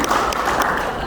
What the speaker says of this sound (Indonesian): tepuk tangan dulu buat mereka berdua ini